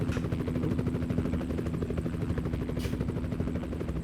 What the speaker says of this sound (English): An helicopter down into the canyon.